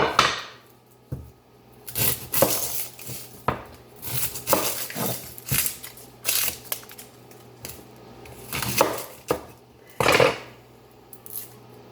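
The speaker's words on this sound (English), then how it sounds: "Next, I'm going to chop an onion." An onion, already halved, is chopped on a board for sugar-free barbecue meatballs with ground beef: a run of sharp, irregular knife strikes, close and fairly loud, some in quick bursts and some spaced apart, with no talking.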